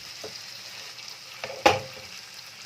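Mutton stir-frying on a medium flame for Bengali kosha mangsho, a faint steady sizzle with a few scrapes and one sharp clack of a spatula against the pan.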